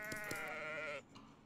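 Sheep bleating in the Worldbox game, a single wavering, nasal baa held for about a second and then cut short, clear and close with nothing else around it.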